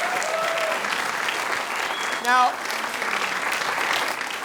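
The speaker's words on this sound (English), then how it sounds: "Give these guys a round of applause." An audience at a Jeopardy parody game show breaks into steady applause throughout, with a brief whistle-like sweep in the middle and a voice speaking over the clapping.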